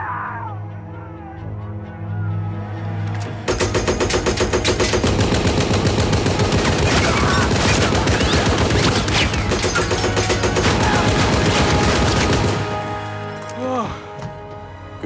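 Rapid machine gun bursts and heavy firing from an M4 Sherman medium tank in a World War II film battle, loud and sustained for about nine seconds after a quieter opening with voices, then easing off.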